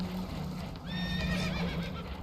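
Spooked horses in Red Dead Redemption 2 let out a shrill rising whinny over a steady low rumble of engine and water, fairly faint in the mix.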